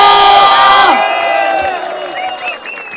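Crowd at a Brazilian freestyle rap battle in Barueri cheering and whooping for an MC, loud and close at first, then fading somewhat with scattered shouts.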